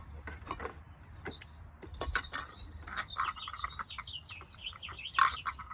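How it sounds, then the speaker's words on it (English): Birds chirp and tweet in a busy morning chorus, a string of short, bright calls at moderate distance, with occasional clinks of dishes or glassware nearby. "the birds are talking to us this morning"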